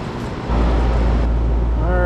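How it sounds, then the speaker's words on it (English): An air conditioner compressor kicks on about half a second in, a loud steady low hum that holds to the end, with a voice murmuring faintly over it. "Compressor comes on."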